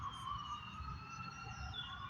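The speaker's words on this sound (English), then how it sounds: "There's a lot of ambulances out there, right? Screaming," An ambulance siren wails steadily in the distance outside, a sustained high wavering tone heard alone over low traffic rumble with no talk.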